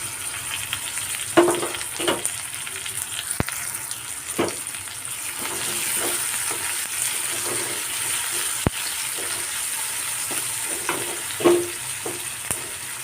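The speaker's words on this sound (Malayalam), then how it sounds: "ഇനി ഇതിലേക്ക് പച്ചമുളക് ഇട്ട് കൊടുക്കാം മൂന്ന് പച്ചമുളകാണ് കേട്ടോ ഞാൻ ഇട്ട് കൊടുക്കുന്നത്" Three green chilies fry in hot oil in a pan while cooking a tapioca-and-egg dish, producing a steady close sizzle with occasional soft stirring taps and a few sharp clicks, and no talking.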